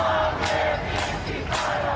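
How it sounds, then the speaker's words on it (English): Students at a campus protest shout and cheer together, a loud crowd roar with chant-like surges rising and falling over a couple of seconds. "Our students right now on college campus cheering on."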